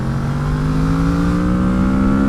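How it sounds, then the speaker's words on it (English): An adventure motorcycle accelerates with a strong, rising engine note heard close up, pulling steadily higher over a couple of seconds with no speech. "It's a fast motorcycle"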